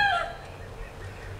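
Native Tagalog gamecocks in a backyard flock, including the hen that mothered a White Kelso, give brief clucks near the start before fading into low, murmuring farmyard background.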